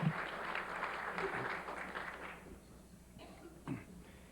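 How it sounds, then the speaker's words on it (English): Guests at a National Press Club luncheon applaud in a fairly quiet burst of clapping that fades away after about two and a half seconds, leaving faint room noise. "Now you can applaud."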